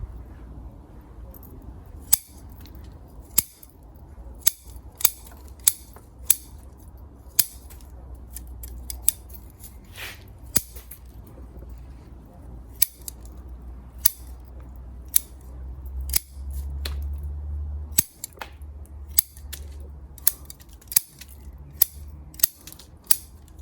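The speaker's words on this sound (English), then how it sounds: "So I will prune all these long shoots." Pruning shears make sharp, crisp snips as long shoots are cut back on an overgrown conifer, with a couple of dozen irregular clicks spread across a quiet outdoor background and a low rumble at times.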